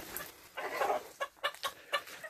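Chickens clucking in a backyard coop during a late-summer garden round, a short run of soft clucks and a few sharper calls, close by with no talk.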